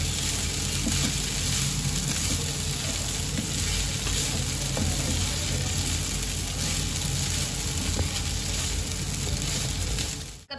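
Onion poha ingredients sizzle steadily in a hot frying pan while being stirred, a constant close crackle with occasional scraping of the spoon, ending abruptly.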